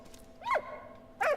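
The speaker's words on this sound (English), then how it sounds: "We've got our dog friend with us now." A dog companion in the World War video game Valiant Hearts gives two short, fairly soft barks about a second apart over a quiet background.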